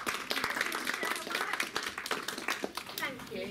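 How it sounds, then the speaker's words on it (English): A round of applause from a small live audience at a talk by author Manjeet Mann, a loose patter of clapping hands with some voices mixed in, fairly quiet and brief. "let's give this lovely lady at the front a nice round of applause"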